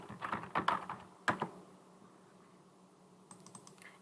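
Computer keyboard typing in a quiet room while entering text into a spreadsheet, with a quick burst of keystrokes, a louder clack near the middle, then soft scattered taps near the end.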